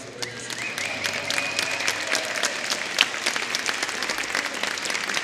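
An audience applauds at a jazz concert in a steady, dense wash of clapping. Individual claps stand out and a faint tone sounds briefly underneath.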